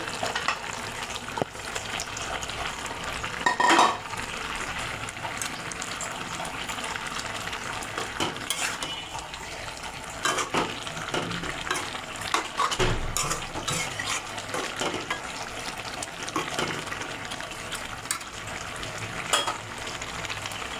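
Pre-fried fish going into a simmering potato curry in a pan, an ongoing sizzle and bubbling broken by scraping stirs and clatter, close and moderately loud, with no talk.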